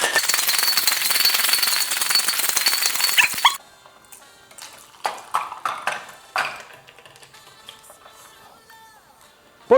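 Ice rattles hard inside a sealed cocktail shaker holding a vodka cocktail, a dense, loud burst of shaking for about three seconds that stops abruptly, followed by quieter scattered clinks and small knocks.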